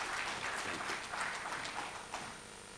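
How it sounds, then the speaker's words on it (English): Audience applause at a meeting of women parliamentarians: a sustained, dense patter of many hands clapping that holds steady and then thins out toward the end. "A round of applause again to encourage him"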